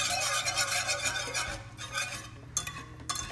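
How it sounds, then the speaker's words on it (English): A spoon or whisk steadily stirring a butter sauce in a metal pan on the stove, continuous scraping and swishing close up with a faint sizzle, a few brief pauses near the end. "never want to stop stirring"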